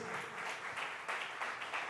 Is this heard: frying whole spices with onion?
no